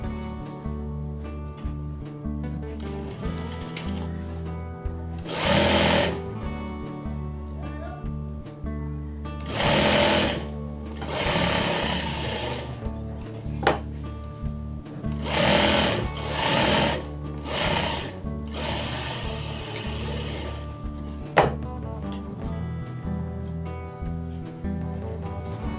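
A sewing machine runs in repeated bursts of stitching along both side seams of a long palazzo, loud and close, with quiet pauses between runs over a steady background hum.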